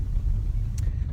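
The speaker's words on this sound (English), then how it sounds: "it's snowed here in Colorado, so the road's really bumpy right now and snow all over" A car rolls over a bumpy, snow-covered road in Colorado, giving a steady, loud low rumble of tires and engine, with a faint brief hiss near the end.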